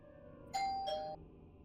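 A two-tone ding-dong doorbell chimes once, clear and fairly close, with a quiet background and no talking.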